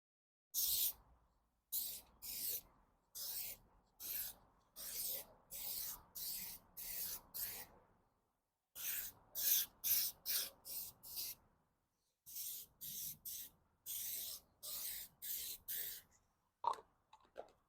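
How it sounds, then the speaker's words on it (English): Repeated short bursts of aerosol clear coat spray on a BMW Z3 headlight, hissing in quick rhythmic passes with brief pauses between groups, close and fairly quiet. "Time to spray on our clear coat"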